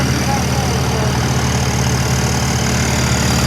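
A tractor engine idles steadily nearby, a low, even rumble with a constant throbbing hum throughout.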